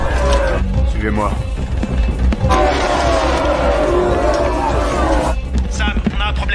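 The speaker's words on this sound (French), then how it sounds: "La foule s'emballe. Ils sont en train de prendre d'assaut l'entrée de service." An agitated crowd storms a service entrance, a dense continuous roar of many voices with shouting bursts, loud and close, with voices talking in the foreground.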